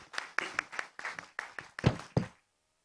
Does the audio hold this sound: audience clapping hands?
yes